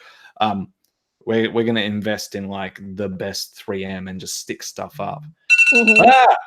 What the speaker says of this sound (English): That was my alarm that just went off.